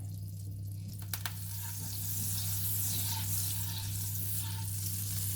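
Olive oil and a good knob of butter melt in a pan before fish is added, giving a steady soft frying sizzle throughout, close and even, with a couple of brief clicks near the start.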